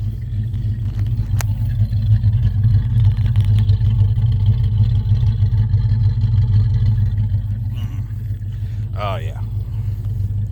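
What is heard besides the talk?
classic car engine running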